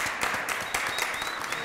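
A television studio audience claps for an all-female rock band, a brief, moderately loud burst of scattered clapping.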